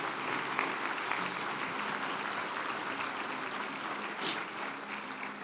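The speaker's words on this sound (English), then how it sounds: "So I'd like you to give them a round of applause." Audience applause from a large crowd at an osteopathic medicine talk fills the hall with a steady, dense patter. It holds evenly for several seconds, with a brief louder swell near the end and no voices over it.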